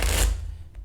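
Tarot cards being shuffled by hand, a dense papery riffle, close and loud at first, then thinning out into quieter rustling.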